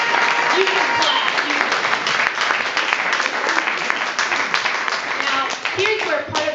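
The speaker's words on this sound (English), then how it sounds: "You can clap." An audience claps steadily and loudly throughout, a dense wash of applause with scattered cheers and voices mixed in, tapering slightly near the end.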